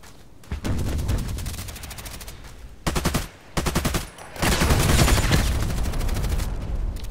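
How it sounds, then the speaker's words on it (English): Automatic AK-105 rifle fire in the shooter game Contract Wars, with dense rapid bursts of shots, some short and some sustained, loud and close. "30 shots. Like a machine gun"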